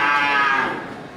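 A bull at a livestock market gives one loud, drawn-out moo that fades toward the end, close and alone with no talk over it.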